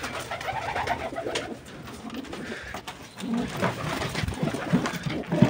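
Pigeons coo repeatedly in a loft while squabbling, soft throaty coos rising and falling over shuffling and flutter, fairly close with a faint voice in the background.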